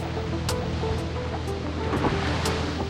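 Sea swell and wind on open water in September, heard aboard a vessel as waves beat against the hull; a steady, loud broadband wash with low rumble and a few brief splashes, no voices.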